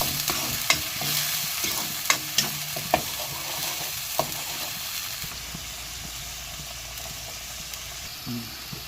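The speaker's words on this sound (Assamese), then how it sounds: "এনেকৈ মই এইটো লাৰি দিছোঁ।" Onion and raw chili fry in a pan under a soft steady sizzle, with a spatula scraping and knocking against the pan in irregular sharp taps, close by and without talk.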